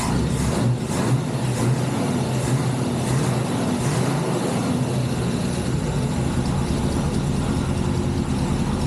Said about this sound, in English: She's got a couple exhaust leaks. I'm sure you guys can hear those.